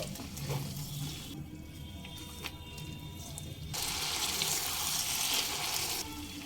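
Water is poured into a mixer grinder jar after rinsing it, in a home kitchen cooking Bengali mutton kasha. A quieter trickle gives way midway to a louder, steady, close gushing splash that runs to the end.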